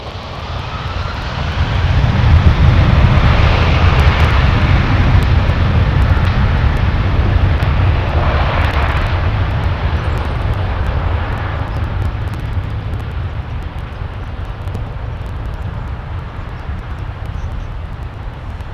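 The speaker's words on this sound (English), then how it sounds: "Now these are Rolls-Royce Trent 8s, aren't they?" Rolls-Royce Trent 800 jet engines on airliners at London Heathrow Airport produce a loud, continuous roar that swells early on and then slowly eases while staying strong.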